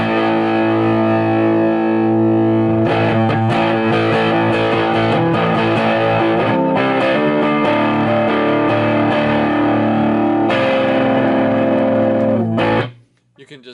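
Heavily distorted electric guitar through a Vox booster pedal, playing chords and riffs, loud and continuous, cutting off abruptly near the end.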